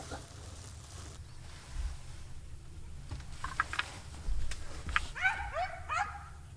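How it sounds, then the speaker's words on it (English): Out in the Virginia woods during deer season, a loose dog chasing deer lets out a few faint, distant yips and barks near the end over quiet rustling background. "Somebody's freaking wild dog."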